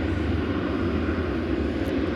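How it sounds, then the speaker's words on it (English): A United Boeing 737-700 airliner arriving at DFW Airport gives off a steady, broad engine roar that holds at constant loudness throughout, heard at a distance with no voices. "This United plane that's coming into view now"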